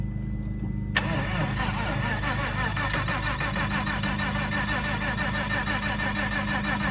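A Fiat 500 Prima Edizione's starter kicks in abruptly and cranks the engine in a fast, steady rhythmic churn that runs on without catching, close and loud.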